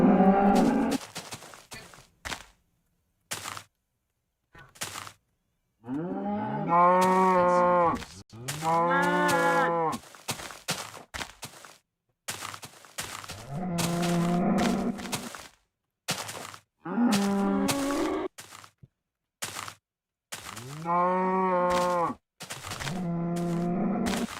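Baby cow in the Minecraft video game mooing repeatedly, a series of strained, wavering moos with short gaps between them, loud and close, with no talk.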